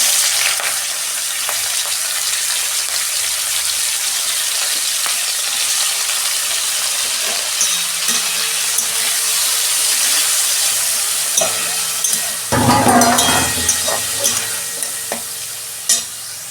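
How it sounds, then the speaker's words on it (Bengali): Prawns frying in hot oil in a kadai give a steady, loud sizzle with stirring scrapes throughout, swelling into a sharper, louder burst of spitting near the end. "তেল গরম হয়ে গেছে, আমি চিংড়ি মাছটা ভেজে নিচ্ছি।"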